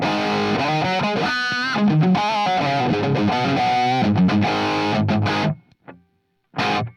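An electric guitar plays crunchy, distorted chords and riffs through an overdrive, loud and sustained, then cuts out briefly before one last strum.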